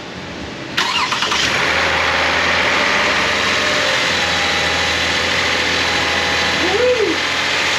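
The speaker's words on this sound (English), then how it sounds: "Beginning engine starting sequence now." A Toyota Highlander 3.5 VVT engine cranks and catches, then settles into a steady idle close by, with a brief voice-like rise near the end.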